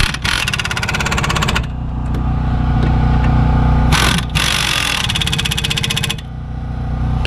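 A power tool tightening rear brake caliper bolts on a Toyota 4Runner, a loud, steady, buzzing hammering drone with brief pauses and changes in pitch, close up.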